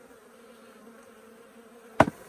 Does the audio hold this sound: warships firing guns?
no